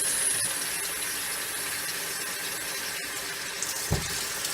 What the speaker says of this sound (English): you really only ever have to add water to an empty bottle